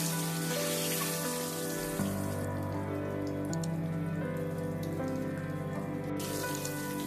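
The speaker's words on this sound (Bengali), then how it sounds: "ডিমগুলোকে লাল লাল করে ভেজে নিব" Eggs fry in hot oil in a pan, giving a dense, continuous crackling sizzle that stays loud and steady throughout, with no voices.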